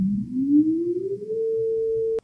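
A single pure sine-wave tone sounds alone, sliding smoothly upward in pitch and then holding steady before cutting off abruptly with a click.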